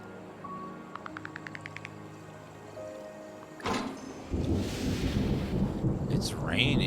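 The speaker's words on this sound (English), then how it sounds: "It's raining." Rain and thunder in the video game Terra Nil: a tonal chime and clicking UI sounds give way to a sharp thunder crack, then steady loud rain hiss with rumbling that builds and continues to the end.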